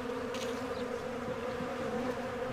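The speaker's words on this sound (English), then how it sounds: "See that bunch of bees right there." Honeybees on a hive frame stand give a close, steady, droning buzz that holds evenly throughout, with no voices.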